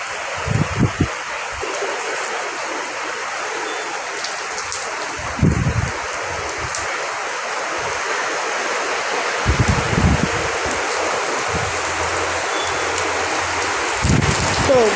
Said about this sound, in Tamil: ஸோ ஆல்ரெடி மழை பெஞ்சு விட்டுருந்துச்சு. இப்போ திருப்பி ஆரம்பிச்சிது கைஸ்.